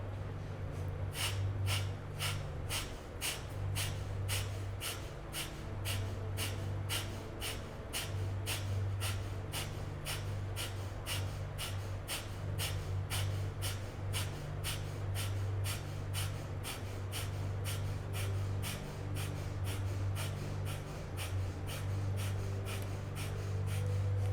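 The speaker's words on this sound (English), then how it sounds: "you're going to begin breath of fire" Rapid, forceful rhythmic nasal breathing in a Kundalini yoga breath-of-fire exercise, sharp even exhales repeating steadily at close range, alone and quiet throughout.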